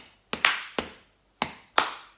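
Five sharp body-percussion hits in an uneven rhythm, foot stamps and claps with short decays, two quick pairs around a single beat, close and clear with no talking.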